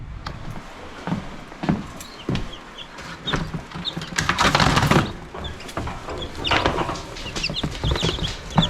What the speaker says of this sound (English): There's 2, 4, 6, 8, 9 new chicks in there.